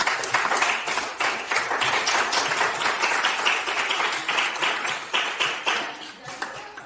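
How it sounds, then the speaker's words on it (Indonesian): Audience applause greeting a German contestant at an Indonesian school performance event, a steady wash of many hands clapping at moderate distance, tapering into a few scattered claps near the end. "Tepuk tangan untuk unggulan Jerman."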